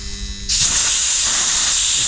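Air hissing out of a farm water pump pipe: a sudden, loud, steady rush of hiss that starts after a brief low hum and continues unbroken.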